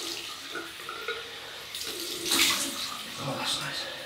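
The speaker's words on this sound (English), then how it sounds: "Cold water rinse." Cold water runs from a tap for a rinse, a steady close splashing hiss that swells midway, with faint voices around it.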